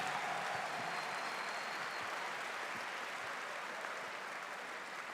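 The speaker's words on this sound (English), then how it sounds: "Big round of applause to our students from part-time MBA program." An audience at a 2021 MBA commencement ceremony gives part-time MBA graduates a steady round of clapping, a dense, even patter heard alone, slowly easing in loudness over five seconds.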